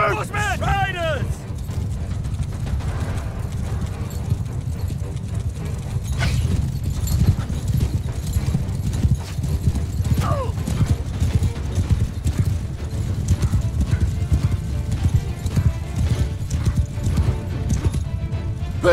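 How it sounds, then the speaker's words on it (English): Cavalry horses in the video game Mount & Blade 2: Bannerlord gallop in a continuous drumming clip-clop, with occasional whinnies and battle shouts over the thundering hooves. "Horsemen! Riders!"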